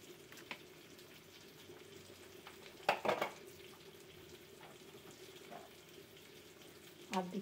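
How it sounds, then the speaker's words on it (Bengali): Nigella seeds tempering in hot oil beside frying hilsa, a faint steady sizzle with a few sharper crackles and clatters near the middle and end. "এবার এর মধ্যে কালো জিরে ফোড়ন দিয়ে দিচ্ছি সাইডে।"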